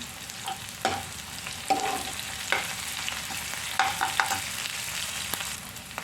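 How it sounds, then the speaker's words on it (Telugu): Onions sizzling in a pan with urad dal, mustard seeds and cumin for a ridge gourd and dry prawn curry, a steady close frying hiss broken by several sharp stirring clinks and scrapes, no voices. "మినపప్పు ఆవాలు జీలకర్ర వేగుతుండగా ఉల్లిపాయలు వేసుకుందాం"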